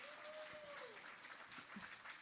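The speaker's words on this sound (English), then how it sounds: "Can we give Lance a round of applause here?" An audience at a business breakfast event applauds a presenter named Lance, steady clapping from a room crowd with faint voices mixed in.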